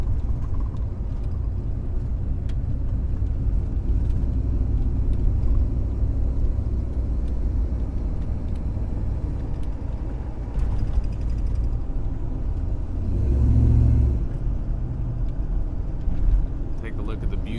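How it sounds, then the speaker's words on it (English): A restored 1991 Dodge Ramcharger's full exhaust system idles and swells in a deep rumble, low and throaty, with a louder surge near the end and a voice talking over it. "The full exhaust system gives it a nice rumble."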